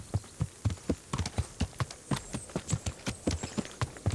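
Horse hooves clip-clopping in the video game Kingdom Come Deliverance, a quiet, steady trotting rhythm of distinct clopping beats over a low hum.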